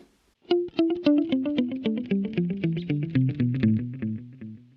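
An electric guitar through a VOX AC30 amPlug 2 headphone amp plays a descending line of distinct picked notes, each followed by delay repeats that fill the gaps, slightly driven tone, clear and alone.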